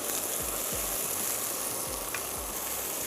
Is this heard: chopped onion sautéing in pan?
yes